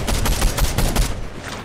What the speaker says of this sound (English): there's people shooting from behind us